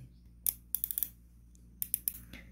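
Sharp, crisp mechanical clicks of a rifle scope's adjustment turret in two short bursts, a few rapid ticks each, close up against a quiet background.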